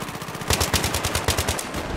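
Rapid automatic gunfire in Battlefield 3, loud bursts of evenly spaced shots rattling close by, with no voices over them.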